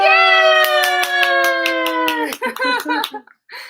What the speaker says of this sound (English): She says, clap for me.